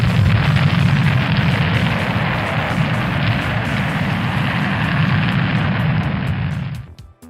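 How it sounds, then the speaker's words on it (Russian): A space shuttle launch gives a loud, continuous rocket roar with deep rumble and broadband hiss that holds steady for several seconds, then fades away at the end. "Шаттл."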